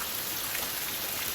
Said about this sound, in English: Rain is falling, downpour start.